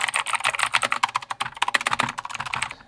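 Rapid, dense clicking of typing on a mechanical keyboard fitted with off-brand blue-type clicky switches, loud and close, keystrokes tumbling in quick uneven bursts with no talking.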